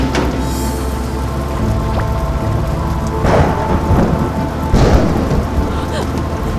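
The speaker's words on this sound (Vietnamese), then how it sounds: "sao như siêu bão vậy?" Thunderstorm with heavy rain in a dramatized scene: steady dense rain hiss throughout with rolling thunder rumbles swelling twice, loud and close, with a faint voice in the background.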